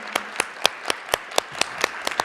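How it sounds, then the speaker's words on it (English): Applause at a school board meeting: scattered, spaced claps from a small group, each crisp hand strike standing apart over a quiet room with a faint background murmur. "So another round of applause for them"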